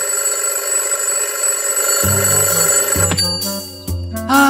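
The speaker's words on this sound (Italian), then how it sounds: "Pato ha puntato la sveglia." A cartoon-style alarm clock rings with a steady high tone, then bright bouncing chime notes join in, loud and close with no talking.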